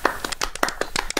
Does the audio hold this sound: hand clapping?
yes